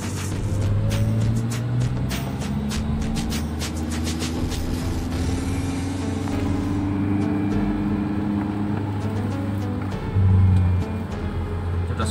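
A Daihatsu Terios with Blackcore engine tuning drives along a road, its low engine drone steady and continuous from inside the cabin, with road rumble underneath and no voices.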